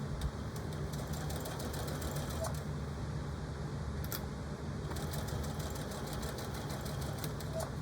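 A sewing machine back-stitching a Christmas table runner, its needle running in fast, even ticking bursts with a short pause in the middle, quiet and close under a low hum.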